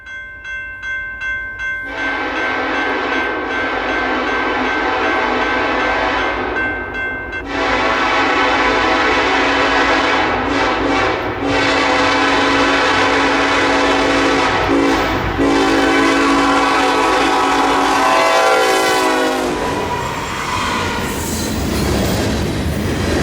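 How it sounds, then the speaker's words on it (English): A CPKC freight train rolls past on a curve on the Beaumont Subdivision, its horn blaring long sustained blasts over rumbling wheels and squealing flanges, loud and close, fading toward the end. "the train negotiates the curve"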